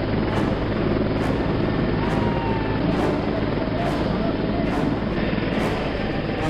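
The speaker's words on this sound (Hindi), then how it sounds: "जब खेतों में धूल का गुबार उड़ाता हेलीकॉप्टर उतरता है" A helicopter lands in open farm fields, its loud, close rotor chop beating in a steady rhythm over a dense engine roar, with faint crowd voices underneath.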